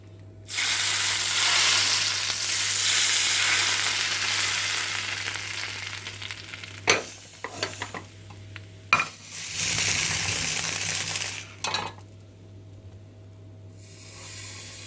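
Butter poured over Ali Nazik kebab, crackling and sizzling in a loud, steady hiss for several seconds, broken by a few clinks of utensils and a short pause before the sizzle returns.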